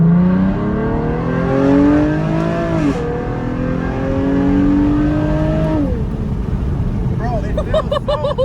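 A Nissan 370Z with Z1 Motorsports cold air intakes revs loudly and steadily, its engine tone rising and falling through repeated pulls, heard from close by while people talk excitedly over it.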